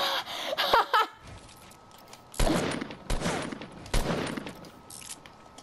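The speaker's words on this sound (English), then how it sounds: "that was us shooting" Bursts of gunfire in the Fortnite video game, several separate volleys spread across the clip with quieter gaps between, mid-level and moderately close, with faint giggles near the start.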